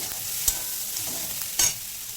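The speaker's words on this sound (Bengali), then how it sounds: "এবার মশলাটাকে এক মিনিট মতো একটু কষিয়ে নিয়েছি" Ground spices sauté in a pan for a vegetarian green-banana curry, making a brief steady sizzle with two sharper scrapes of a stirring utensil.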